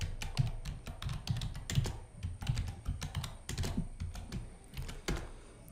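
Keystrokes on a computer keyboard as login credentials are typed for an Azure virtual machine admin account, a steady run of close, crisp clicks with a few heavier key presses and no talk.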